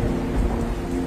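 Steady heavy rain pours down with a low rumbling of thunder beneath it, a dense continuous wash of storm noise with no voices.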